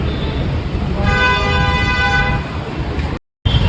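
A loud car horn blares in one long honk over the steady roar of road traffic, then the traffic noise carries on.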